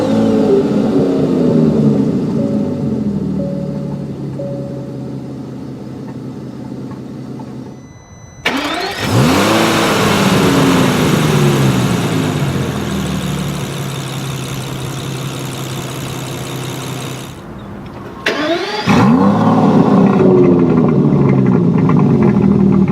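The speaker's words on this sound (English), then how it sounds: "put your foot on the brake and hit the dash-mounted button to go" A 2017 Aston Martin DB11 engine cranks to life with a loud burst, settles into a steady rumbling idle, then a second sharp flare of revving, heard up close with no voices.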